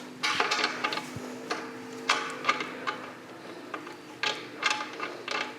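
Threading a 50-inch hose fitting onto a 12-ton digital press controller, a run of close, dry ratcheting clicks and metallic scrapes in uneven bursts, with no voices.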